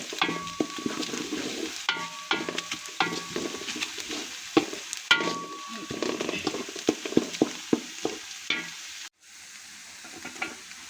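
Onions frying lightly in a pot for chicken biryani, close sizzling broken by frequent quick knocks and scrapes of a spoon stirring, with a brief cut near the end.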